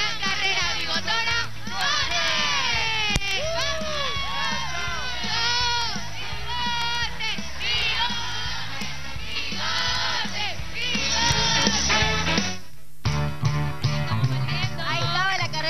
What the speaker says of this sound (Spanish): ¡Fuerte los aplausos! ¡Que se escuche!